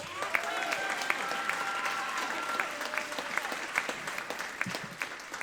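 Applause for a drum set player at a middle school popular music concert, a fairly faint, scattered patter of audience clapping with distinct individual claps and a few cheers mixed in.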